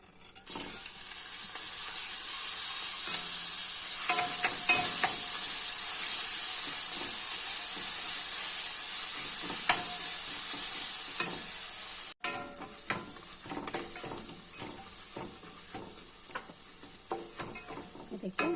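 Mint leaves dropped into a hot pan for mint chitranna burst into a loud, close hiss of frying that gradually eases, with spoon scrapes and taps of stirring throughout and a quieter sizzle continuing after a brief break.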